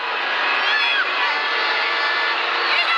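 Crowd cheering at a women's international football match between Nepal and Myanmar, a steady loud roar of many voices with shouts and whoops rising above it and no pause throughout.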